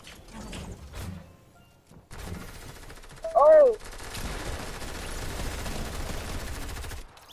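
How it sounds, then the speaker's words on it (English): Gunfire in the video game Fortnite crackles in bursts under ongoing player chatter, with a loud, sharp blast near the middle of the stretch. "someone's shooting at me."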